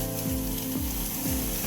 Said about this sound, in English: that's the yam boiling